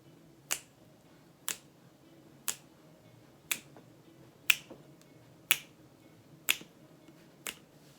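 Finger snaps recorded as a percussion part for a music track, eight crisp, close snaps landing on a steady beat about once per second against a quiet room.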